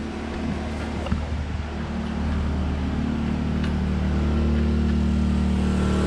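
An 800 watt gas generator in Thailand runs steadily while powering a 5000 BTU air conditioner, a close, even engine drone that holds at constant speed throughout with no talking.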